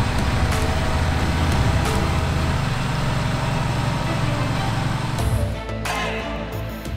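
A Fendt 1050 Vario tractor hauls a 12.4-meter, 13-ton Väderstad seedbed combination on shallow tillage, its deep engine drone loud and continuous, with rolling field rumble that eases slightly near the end.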